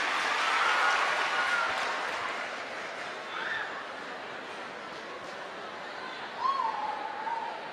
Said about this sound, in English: give yourselves a round of applause and take a seat